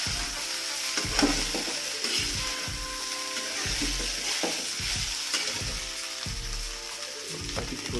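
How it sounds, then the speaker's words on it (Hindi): Poha fries over a low gas flame as it is stirred and mixed in a pan, giving a continuous close sizzle with rhythmic scraping and light clanks of the spoon throughout, and no talking. "पोहे डालते हैं। और अब इसको चला लें, अच्छे से"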